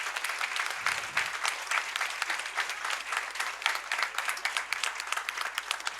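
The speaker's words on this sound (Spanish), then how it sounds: "un aplauso para nuestros queridos egresados" An audience at the closing panel of a technology education congress applauds the graduates, a dense, even round of clapping that fills the room and holds for about six seconds with no talk.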